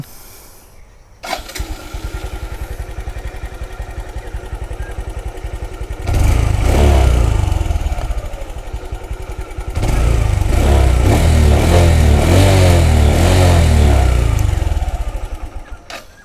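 A Suzuki Hayate motorcycle with about 58,663 km and 12 years of use starts and idles with a steady, close putter, then revs twice in long, loud swells before settling back, with no talking.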